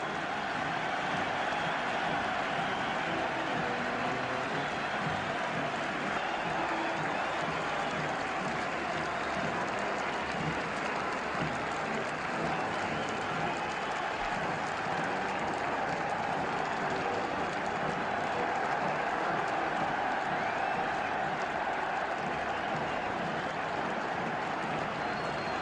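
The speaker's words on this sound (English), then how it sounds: "Tremendous cheering for Aston Villa." Tremendous cheering for Aston Villa fills a packed Wembley at the 1971 League Cup Final, a continuous dense roar of the crowd sustained steadily from start to finish with no pause.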